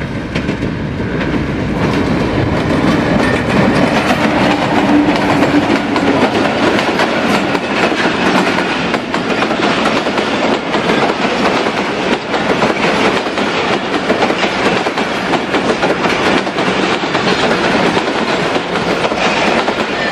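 The Millat Express passes nearby, hauled by PHA-20 locomotive 8311 at Faisalabad Dry Port, with loud, continuous rumbling and rhythmic clickety-clack of wheels over rail joints throughout.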